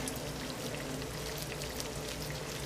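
Mackerel patties fry in a cast iron skillet, four at a time, giving a steady, dense hiss and crackle like pouring rain. The sizzle carries on evenly throughout, close and moderately loud, with no voices.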